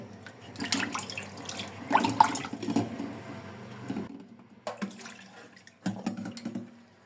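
Topse fish are rinsed in water in a kitchen, with bursts of splashing and running-tap sounds that pause around four seconds and then resume for a second round of washing, fairly close.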